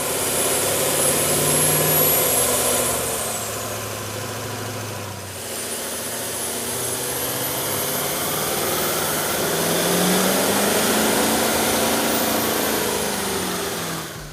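A truck engine fitted with a K&N 63-3087 cold air intake runs steadily, a smooth mid-pitched hum with a faint high whine rising and falling as revs shift gently, heard without talk.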